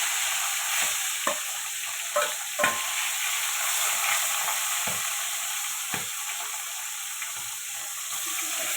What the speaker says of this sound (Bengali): তেল দিয়ে দিলাম তেল ফোঁটাটা ভেজে নেব